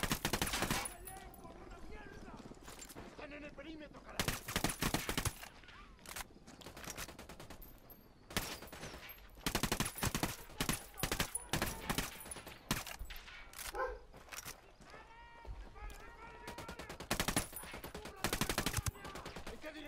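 Sniper and other gunfire in the tactical shooter Tom Clancy's Ghost Recon: loud, sharp shots and rapid bursts recur throughout, some close together and some spaced apart, over a steady background of game ambience.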